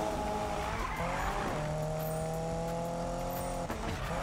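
Car drifting in the Need for Speed racing game, with a steady engine drone and tires skidding and squealing through a slide at moderate volume, no talking.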